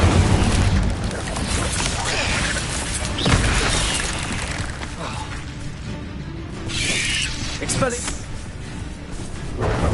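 Spell effects from the video game Hogwarts Legacy: a dense, loud run of magical blasts, crackling bursts and booming impacts layered over steady game music and ambience, with sharp hits near the start and middle.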